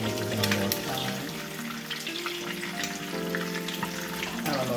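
Shrimp cakes frying in a pan give a steady, close sizzle with faint scraping as they are turned over with two spatulas, no voices present.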